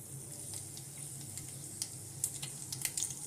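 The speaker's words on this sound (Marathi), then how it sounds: "मोहरी आपली तडतडली आहे." Mustard seeds crackle in hot oil during tempering, a faint steady sizzle dotted with quick sharp pops that grow more frequent toward the end.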